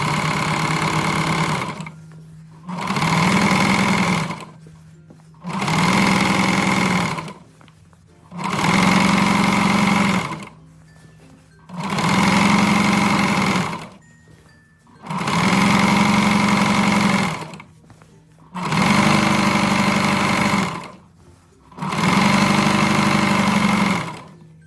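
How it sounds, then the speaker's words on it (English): A sewing machine stitches around the hem of a mini dress skirt in eight steady, loud bursts of a few seconds each, with brief pauses between runs and no talking. "you just start sewing, and we're going to go all the way around"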